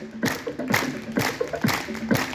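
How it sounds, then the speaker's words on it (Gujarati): Loud hand clapping during a weight-loss yoga aerobics exercise, four sharp claps spaced in a steady rhythm, close and clear. "જોરથી તાળી પાડો તો"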